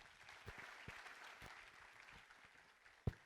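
An audience at a GDG Cloud Bhopal community event claps, scattered close hand claps over a soft crowd murmur, with a couple of sharper claps near the end.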